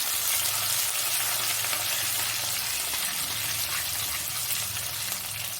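Garlic, ginger and curry leaves fry in coconut oil with a steady, loud, close sizzle that holds evenly from start to finish, with no voices.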